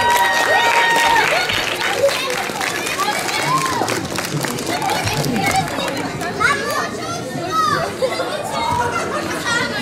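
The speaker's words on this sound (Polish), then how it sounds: "Jeszcze raz wielkie brawa dla Boże Budyń!" Lively crowd at a Polish scouting (ZHP) festival stage event, with applause blended into loud chatter, children's shouts and cheering, a busy, dense hubbub that continues throughout.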